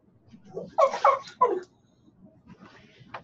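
Dogs bark and yip in the background of a remote meeting call, a few quick bursts close together, then faint whimpering noises, with low room noise between them.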